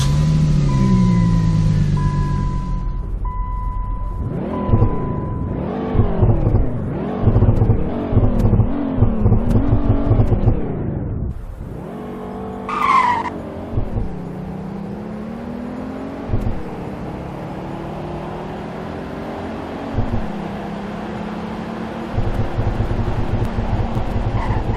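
Cars driven in the Roblox game Greenville produce synthetic engine revving that rises and falls in repeated bursts, followed by a short squeal of tires skidding and then a steady engine drone, loud and without any talking.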